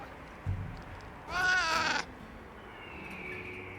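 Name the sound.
cat companion meowing in video game Monster Hunter Wilds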